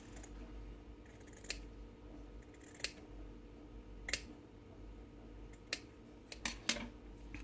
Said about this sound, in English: now I'm going to cut down this way.